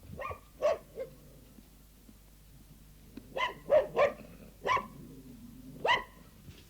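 Two dogs, a spaniel and a terrier, barking: several sharp, separate barks in scattered pairs and singles, moderately close against a quiet background.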